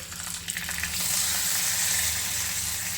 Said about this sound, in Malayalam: ഇനി അതിലേക്ക് കറിവേപ്പിലയും വറ്റൽമുളകുമാണ് ഇട്ട് കൊടുക്കുന്നത്